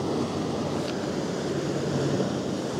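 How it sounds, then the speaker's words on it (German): A boat's wake wave washing into a harbor, a steady broad rush of water and surf with wind noise across the microphone. "Da kommt die Welle."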